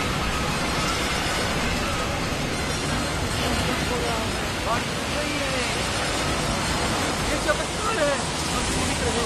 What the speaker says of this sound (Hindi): अरे बहुत बड़ी तूफान है